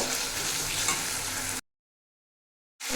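Chicken pieces sizzle and fry in hot oil with green chilies, a steady close crackling hiss that cuts to silence and then resumes.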